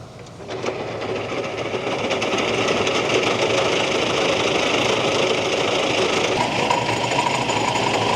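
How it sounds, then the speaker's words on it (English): Tractor-driven power harrow working grassland soil during a no-plough reseed, with rollers and a spade behind, gives a steady, loud mechanical churning and engine drone that runs throughout without talk. "See how the power harrow tines swizzling that way as opposed to the rotovator yesterday going that way."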